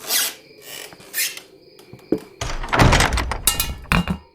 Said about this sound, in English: That gas can fell.